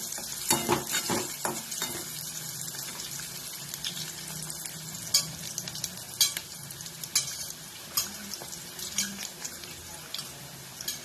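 Onions lightly frying in a pan for a green tomato vegetable dish, with a soft sizzle under scattered clicks and scrapes of a spoon, fairly quiet and close.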